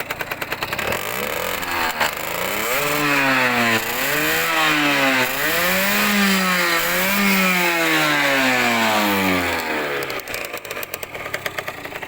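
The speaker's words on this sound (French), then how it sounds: "Donc j'accélère un petit coup." A Yamaha TZR 50 two-stroke motorcycle engine revs repeatedly, its pitch climbing and falling in several rising-and-dropping surges, close by and loud, with a buzzy, raspy tone throughout.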